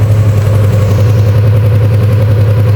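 A motorcycle engine idles close by, a steady low rumble with a continuous throb and no voices.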